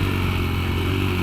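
A highly modified Kayo MR125 pit bike is ridden through a corner at a kart track. The single-cylinder engine drones steadily and close up, with no pauses and no talking.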